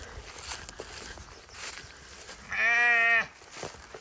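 A sheep or lamb lets out one loud, near bleat lasting under a second, set against quiet outdoor farm noise with faint footsteps.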